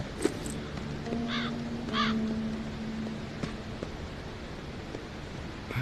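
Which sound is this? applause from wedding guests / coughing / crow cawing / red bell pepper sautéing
crow cawing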